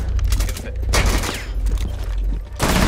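Bursts of rapid gunfire crackle in quick succession, like automatic weapons in Rainbow Six Siege, loud and dense with brief gaps between volleys.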